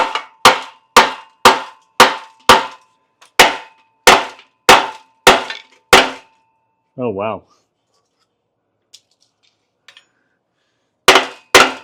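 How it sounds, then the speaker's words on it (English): Loud metallic hammer strikes on a car exhaust hanger of a Saab 900 Turbo ring out in a steady series of about a dozen blows, then pause for a brief exclamation before two more hits. "I think we'll just start hammering and hope it moves."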